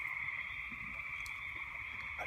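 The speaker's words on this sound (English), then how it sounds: "Do you hear the things that you're hearing? Frogs." Frogs sing outdoors at night in a continuous, faint, high trilling chorus, with a few closer calls standing out now and then.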